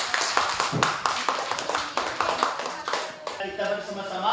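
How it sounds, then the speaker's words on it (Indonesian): Classroom applause for a student group presenting, many hands clapping steadily and fairly close for about four seconds, thinning slightly toward the end. "Nah, tepuk tangan kepada perwakilan kelompok 3."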